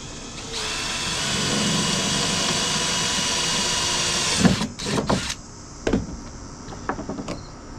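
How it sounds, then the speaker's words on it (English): A power drill pre-drills a hole for a screw during repairs on an old generator, a loud steady whine for about four seconds followed by several short bursts, close up with no talk. "I got to pre-drill a hole for this one here"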